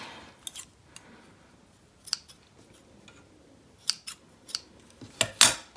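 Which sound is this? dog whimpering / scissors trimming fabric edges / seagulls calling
scissors trimming fabric edges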